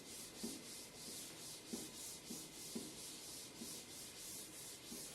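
A classroom board being rubbed clean with a duster during a physics lesson, giving a faint, steady scrubbing with regular swipes about every second, with no voices.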